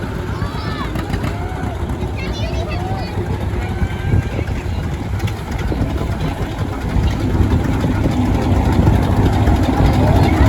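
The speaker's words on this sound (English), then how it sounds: "Levi Schultes, he's on a 1949 John Deere D" A 1949 John Deere D tractor rolls through the Swedish Festival parade in Stromsburg, its engine idling in a steady low rumble, with people talking over it throughout.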